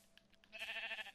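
Sheep in the video game Minecraft letting out a single short bleat, faint and quiet, heard alone with no talking.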